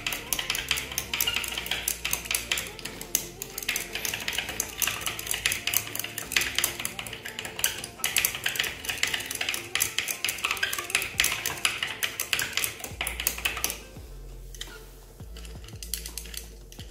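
A zinc sulfate solution is stirred to dissolve it, making a rapid steady clinking and tapping of the stirrer against the glass that stops near the end, leaving a quieter pause.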